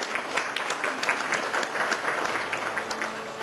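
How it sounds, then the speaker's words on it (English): Warm, continuous applause from an audience at a business excellence awards convention in Dubai, a steady patter of many hands clapping without speech. "Can we give a round of applause to all of the award winners?"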